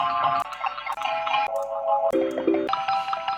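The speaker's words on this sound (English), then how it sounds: "experimenting quite a lot with delays and sound design outside of synths" Bright synthesized plucked notes echo and repeat through a delay, shifting pitch in layered, chiming patterns that fill the space continuously.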